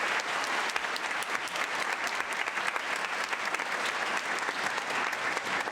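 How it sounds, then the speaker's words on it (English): Audience at a school spring concert gives a pianist sustained, even applause, dense and continuous throughout. "Will you please give her a round of applause?"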